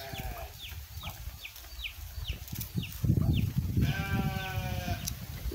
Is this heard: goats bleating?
yes